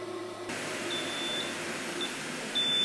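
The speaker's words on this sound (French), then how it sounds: "Là, l'appareil nous prévient que notre cuisson est terminée." Kore oven sounds a series of short electronic beeps to signal that cooking of a grilled beef rib is finished, thin high tones repeating at uneven intervals over a steady background hum in a kitchen.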